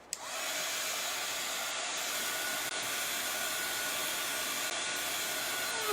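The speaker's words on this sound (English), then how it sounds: "Now I'm going to dry it." A hair dryer blows steadily and loudly over a chalk stencil, a constant close whooshing rush that switches on at the start and runs unbroken to the end.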